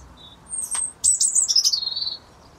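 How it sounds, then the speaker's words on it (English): Robin singing in a garden, a brief high thin note followed by a fluid, warbling phrase of rapid tweets, clear and fairly close against a quiet outdoor background. "There's a little robin just there"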